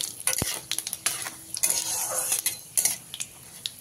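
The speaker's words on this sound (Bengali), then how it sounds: "শুকনো লঙ্কা আর 5 ফোড়নটাকে হালকা করে একটু ভাজা ভাজা করে নিতে হবে" Three dried red chillies and half a spoon of panch phoron fry lightly in mustard oil, making a soft sizzle broken by sharp clicks and taps of a spatula against the pan.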